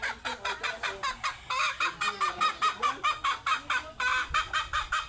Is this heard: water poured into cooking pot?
no